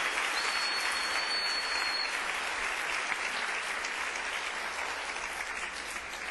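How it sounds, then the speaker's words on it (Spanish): Church congregation applauding during a sermon, a continuous, fairly even roar of many hands clapping that fades slightly near the end, with no speech over it. "Denle un aplauso al Rey"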